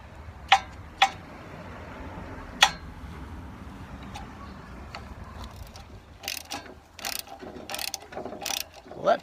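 A repaired Wood-Mizer sawmill debarker mechanism is turned by hand, giving a few sharp metallic clicks followed by a rapid series of ratcheting, clattering ticks, close and fairly quiet.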